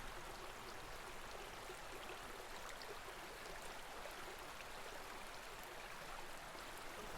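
A river stream flowing in a steady, even rush of broadband water noise, constant and unbroken throughout with no voices.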